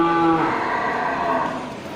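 A male Aceh bull moos at a lively cattle market, one loud drawn-out low call that holds steady and fades into the crowd's background murmur.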